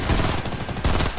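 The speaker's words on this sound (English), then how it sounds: "let's just shoot our new teammate" Rapid bursts of gunfire in Fortnite, dense and loud, crackling continuously through a brief exchange with a slight pause midway.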